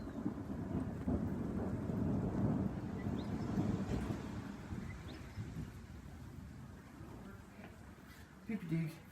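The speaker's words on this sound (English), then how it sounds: "huge crack of lightning straight down there." Thunder from a lightning strike in a thunderstorm rumbles low and heavy through rain and wind buffeting the microphone, swelling then slowly fading, with a voice speaking over it.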